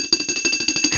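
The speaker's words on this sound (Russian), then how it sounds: "колокольчик" A small bicycle-style bell rings quickly and brightly, about nine rapid dings in one second, loud and near.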